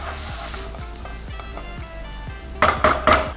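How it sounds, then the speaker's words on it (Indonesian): Garlic sautés in cooking oil in a wok with a steady, close sizzle and soft stirring scrapes, then a few loud metallic clanks of a utensil against the pan near the end. "Tambahkan 2 sendok makan minyak goreng. Sobat, ini yang 2 siung bawang putih. Kita tumis ya."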